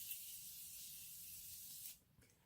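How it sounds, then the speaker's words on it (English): Morphe setting spray misted onto a face, a single steady hissing spray lasting about two seconds, close and fairly quiet, ending abruptly. "now I'm going to go ahead and set my face with my Morphe. This is a great setting spray"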